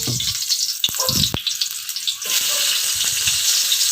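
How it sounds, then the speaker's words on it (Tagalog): Chopped onion and garlic sizzle in a hot wok for Filipino mung bean stew, a steady bright frying hiss that lasts the whole clip, broken by a few sharp clinks and stirring knocks. "pagtapos mainit na yung kawali, ilagay na natin yung sibuyas at saka bawang at ihalo na siya"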